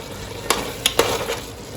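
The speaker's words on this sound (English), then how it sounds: "now we are going to add in the beef which is already been cooked. Give it a nice stir." Cooked beef is stirred into a simmering Goan beef and pork stew in a pan, with a soft sizzle underneath and a few distinct scraping knocks of the spoon against the pan, up close.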